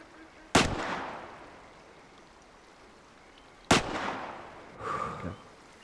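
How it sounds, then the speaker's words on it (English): A hunting rifle fires in Way of the Hunter, two sharp, loud cracks about three seconds apart, each trailing off in a short echo, followed by a softer thump, with no speech. "Pretty sure that second shot was the same one as the first shot"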